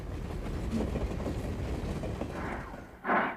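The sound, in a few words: westbound train passing by carrying military equipment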